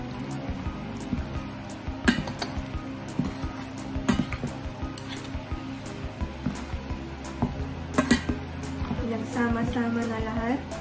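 Pork embutido ingredients, ground meat with carrots and pickles, are stirred in a bowl with a utensil, producing soft wet scrapes and occasional clinks against the bowl, quiet and close, with someone talking over it.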